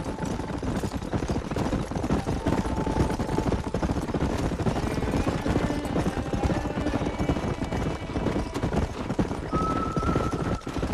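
Horse galloping in the Western game Red Dead Redemption, fast continuous hoofbeats pounding close and loud, with brief whinnies and other game sounds layered over the rhythm.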